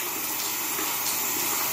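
Tap water runs steadily over makeup brushes being rinsed at a sink, a close, even, continuous rush of flowing water with no talking.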